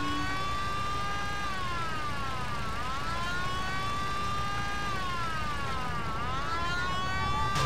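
Police car sirens wail in the Mafia video game, a loud continuous rising-and-falling electronic tone repeating in slow sweeps over low engine rumble.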